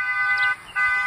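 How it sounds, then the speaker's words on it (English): A car horn sounds from down the road near a manufactured home site, two sustained steady blasts split by a short gap, fairly loud and with no talk over it. "somebody honking down the road."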